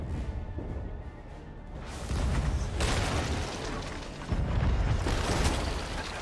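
Ship cannons fire ordinary cannonballs in the pirate game Sea of Thieves, with two loud, heavy booms that roll out into a long rumbling wash over steady background noise.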